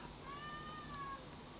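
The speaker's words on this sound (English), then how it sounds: "The cat is back again." A domestic cat gives a single short, clear meow indoors, fairly quiet and alone.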